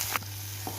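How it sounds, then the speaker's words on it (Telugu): Dried red chillies and chopped onions crackle in hot oil as a tempering for an ivy gourd (dondakaya) fry, a brief steady sizzle with a couple of soft pops over a low hum. "చూడండి, ఎండుమిర్చి, ఆనియన్స్ కూడా వేస్తున్నాను"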